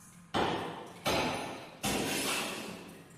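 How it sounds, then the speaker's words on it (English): In The Last Door video game, a hammer strikes a wall three times, each a loud heavy thud with a ringing decay, spaced under a second apart. "Need to go bash that wall open"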